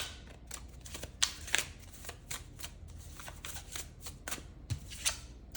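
Tarot cards riffled and shuffled repeatedly at close range, a steady run of crisp slapping bursts with no talking.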